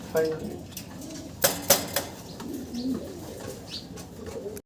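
Pigeons coo softly close by, low rounded calls mixed with a few sharp clicks and a steady background murmur.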